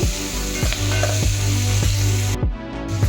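Onion frying in a pan for tomato rice gives a loud, continuous sizzle, broken by several rhythmic scraping stirs with a spatula and no talking.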